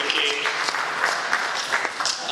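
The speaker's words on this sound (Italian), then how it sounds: "E Cialente applaude" An audience at a political speech by Matteo Renzi in Assergi breaks into steady, dense applause that carries on throughout, moderately loud with individual claps standing out.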